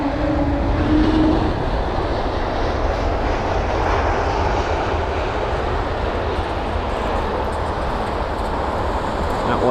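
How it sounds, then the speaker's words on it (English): A Lufthansa Airbus A320neo at London Heathrow Airport, a broad, steady jet roar at moderate distance that gradually fades, heard alone. "That was the Lufthansa 320neo"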